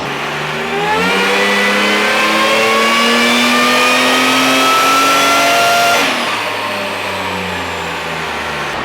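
A supercharged Toyota Hilux screams on a dyno with its exhaust cutout open, a loud sustained rev climbing steadily in pitch for several seconds before dropping off and settling back.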